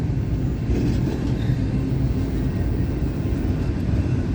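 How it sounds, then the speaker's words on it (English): A CSX intermodal freight train passes slowly on a rainy day, a loud, even low rumble of rolling cars that holds steady throughout, close by and with no voices. "So the CSX Intermodal is passing through slowly."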